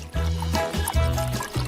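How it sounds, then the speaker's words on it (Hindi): Cooking oil poured into a pan, making a close, continuous glugging trickle with a few short pulses as the flow surges. "ओह, तुमने बहुत ज्यादा तेल डाल दिया है।"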